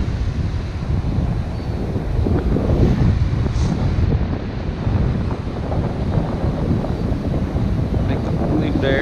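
Strong wind buffets the microphone on a beach during surf fishing, a constant rough roar with surf mixed in, close and loud throughout.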